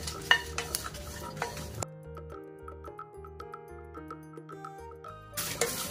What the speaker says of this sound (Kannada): ಇದನ್ನೆಲ್ಲ ಚೆನ್ನಾಗಿ ಕ್ರಿಸ್ಪಿ ಆಗೋವರೆಗೂ ಹೀಗೆ ಫ್ರೈ ಮಾಡ್ಕೋಬೇಕಾಗುತ್ತೆ